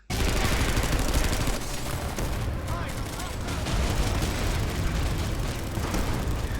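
A long, unbroken burst of automatic gunfire aimed at a wounded NC MAX in a PlanetSide 2 style shooter, loud and dense with constant rattling and explosive din running the whole way through.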